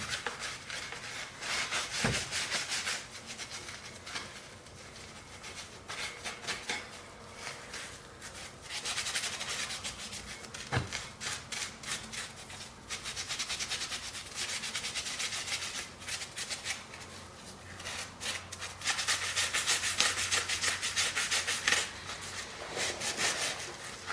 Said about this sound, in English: Scotch-Brite first. Yeah, we'll start towards the top and work on my way down.